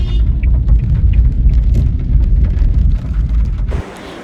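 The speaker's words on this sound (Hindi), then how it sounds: "बारिश लगी हुई है" Steady heavy rain patters and hisses close by in Hunza, Pakistan, ending abruptly in quieter background noise.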